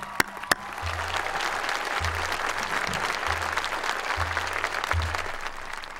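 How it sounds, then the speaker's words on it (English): Graduation crowd at a 2009 South St. Paul ceremony applauds school staff outdoors, steady dense clapping throughout, with a low hum pulsing on and off beneath it. "so how about a round of applause for them?"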